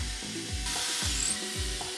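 A power drill boring pilot holes into a wall for mounting corner shelves, several short whirring bursts in a steady rhythm, close and fairly loud with no talking.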